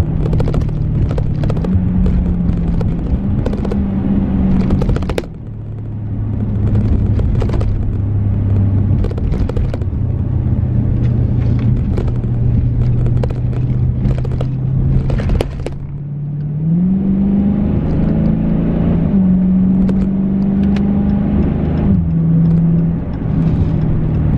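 A car engine idles and revs steadily close by, shutting off briefly and then restarting with a rising, rough rumble, loud and continuous with no talk.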